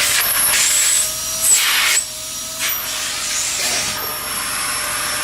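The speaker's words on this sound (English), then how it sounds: "So now we're gonna turn the vacuum on" A vacuum cleaner runs steadily with a high whine at a mobile pet salon, punctuated by scraping and rubbing bursts as the nozzle moves.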